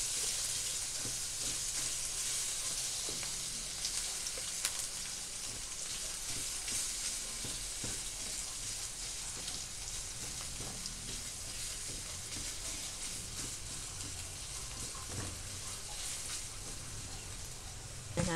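Garlic, onion and longganisa sausage fry in a pan with a steady, soft sizzle and occasional light clinks, continuing without a break.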